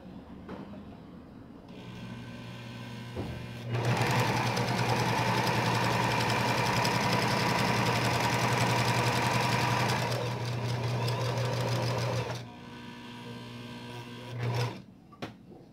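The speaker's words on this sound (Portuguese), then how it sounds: "Aí aqui você vai passar uma costura, agora zigue-zague, tá?" Sewing machine stitching a zigzag finishing seam on a small bag, starting with a few slow stitches, then running fast and steady for about eight seconds before slowing and stopping, close and alone.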